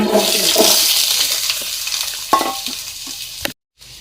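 Onion frying in about two tablespoons of hot coconut oil in a pan for a chicken chilli curry, a steady loud sizzle with scraping stir strokes, ending in a brief silence.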